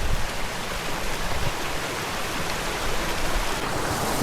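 Mountain stream rushing through a narrow rocky gorge, a loud, continuous broadband roar of flowing water, steady and close, with no voices.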